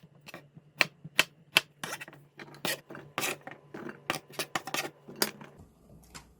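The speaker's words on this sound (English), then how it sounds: "We should cut the pumpkin into medium-sized cubes." Knife chopping pumpkin into medium-sized cubes for a Korean pumpkin doenjang stew: a quick run of crisp, close taps on a cutting board in irregular rhythm, each a sharp click.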